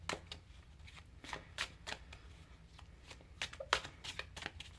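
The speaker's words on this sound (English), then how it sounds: "it shuffles pretty nice" A Tarotwave tarot card deck being shuffled by hand, a series of quick riffling bursts and soft card slaps close up, repeating irregularly with no talk.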